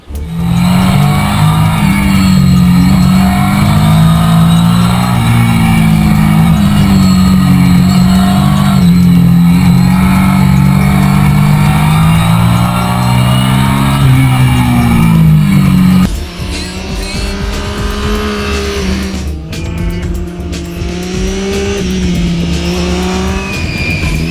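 A loud 2013 Triumph Street Triple 675 R motorcycle engine drones steadily while riding, its pitch rising and falling with speed, with wind rush strong throughout.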